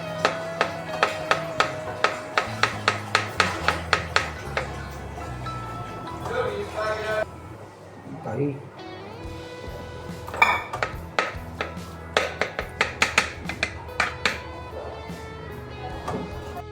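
A knife cuts bananas into small pieces for a yogurt-and-banana dish, producing a quick run of crisp clinks and taps against a dish. A pause follows, then more scattered clinks close by.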